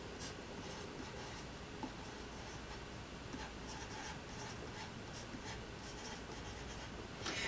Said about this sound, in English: And I'm also going to write on here that your paper size